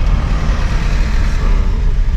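Heavy late-afternoon traffic on a South African town road, engines of cars, trucks and buses droning steadily close by, a loud continuous roar without speech.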